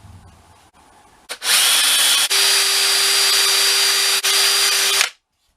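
A power sander with a coarse pad grinds steadily against a GameCube plastic shell, loud and continuous for about four seconds with two brief dips, then cuts off abruptly.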